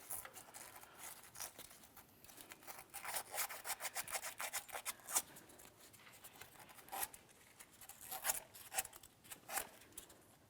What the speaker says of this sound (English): I'm just going to use some fine sandpaper. Just give it a light scuffing